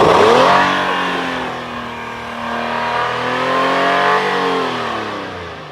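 Engine of an Infiniti QX60 revving hard in a garage during radiator air purging after an alternator install, a loud close rising roar that eases, dips and swells again, with no talking.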